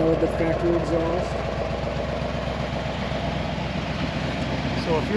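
A 1972 Chevrolet Corvette with original low mileage and factory exhaust idles steadily nearby, a low rumbling engine note holding even for several seconds.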